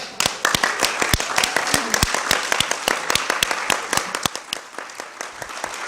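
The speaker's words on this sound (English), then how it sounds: "Stand up and give yourself a round of applause." A civil society briefing audience on their feet gives a loud, sustained round of applause. Dense, crisp claps run throughout, easing slightly toward the end.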